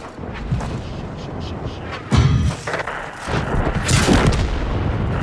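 A World of Tanks tank takes hits and is knocked out, heavy in-game thuds and booming impacts rolling over continuous engine and battle rumble, with a sharp louder blast partway through.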